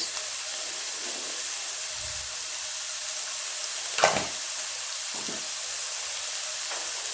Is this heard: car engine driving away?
no